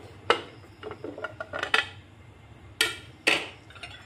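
A spoon stirs pancake batter in a bowl, producing quiet, irregular clinks and taps of metal against the bowl, with about half a dozen sharper knocks between softer scraping touches.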